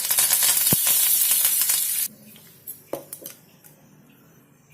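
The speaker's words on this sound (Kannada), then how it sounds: "ಒಂದು 4 ಕಡೆ ಕರಿಬೇವಿನ ಸೊಪ್ಪು ಹಾಕ್ತೀನಿ." Curry leaves drop into hot oil for a tempering for radish chutney, bursting into a loud, close sizzle that crackles for two seconds, then cuts out, leaving faint clinks and light taps of utensils.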